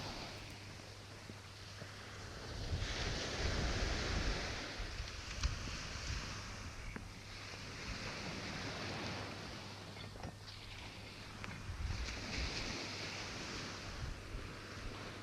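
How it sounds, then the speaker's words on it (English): Ocean surf washes in rolling surges of broadband noise, swelling and easing every few seconds, with wind buffeting the microphone throughout and no voices. "have a listen to this nice ocean"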